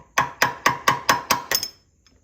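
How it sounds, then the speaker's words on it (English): Half bushings are knocked off the steering stem of a 2021 Can-Am Renegade 1000R in seven sharp, evenly spaced metallic strikes, close and loud, followed by a brief quiet moment. "I'm popping these half bushings off"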